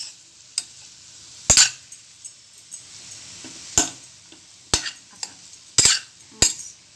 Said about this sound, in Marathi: मोठे झाले चमच्यानं फोडून घ्यायचे बटाटे।